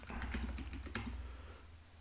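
Rapid clicking of computer keyboard keys while code is typed, a steady close run of keystrokes that trails off near the end.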